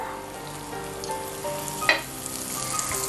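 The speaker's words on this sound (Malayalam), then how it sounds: "ഒരല്പം എണ്ണയും കൂടി നടുക്ക് ഭാഗത്തായിട്ട് ഒഴിച്ചു കൊടുക്കാം." Oil sizzles in a pan while jackfruit seeds and eggs are cooked into a stir-fry, a steady close frying hiss with a brief louder clatter near the middle.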